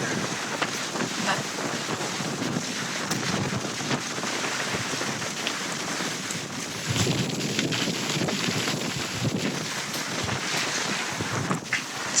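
Strong gusty wind from Storm Emilia in the Canary Islands buffets the microphone with a steady roaring rush and brief louder gusts, with no talking.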